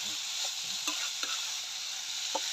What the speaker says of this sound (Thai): ผัดกะเพราครับ ผัดกะเพราปลากระมัง